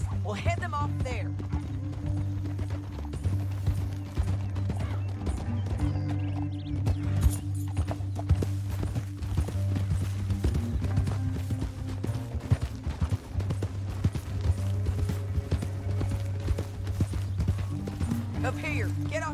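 Horse hooves clip-clop steadily in Red Dead Redemption 2 beneath a continuous music score, with characters talking over the ride.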